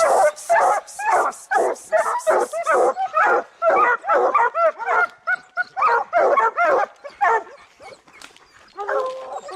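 Several bear-hunting hounds bay and yelp excitedly in rapid, overlapping bursts, loud and close, with a person shouting among them.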